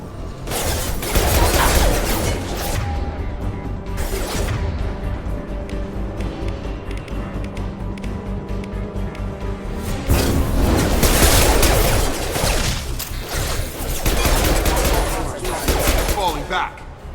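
Sustained bursts of gunfire in the video game Mass Effect 2, dense rapid shots with booming impacts and mechanical clatter, loud and continuous with a brief lull mid-fight before firing intensifies again.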